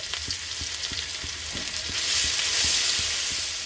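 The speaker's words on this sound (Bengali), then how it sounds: "ফ্রাই প্যানে তেল দিয়ে দিলাম, এধারে শোল মাছ ভাজার তেল আছে, ওই তেলের মধ্যে দিয়ে দেবো রসুন কুচি, আদা কোড়া," Chopped garlic and grated ginger sizzle in hot oil in a frying pan, oil left from frying snakehead fish, with a steady crackling hiss and a few rhythmic taps of stirring.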